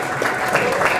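A seminar audience claps together for a guest, a full and even burst of applause that holds steady, with faint voices in the mix.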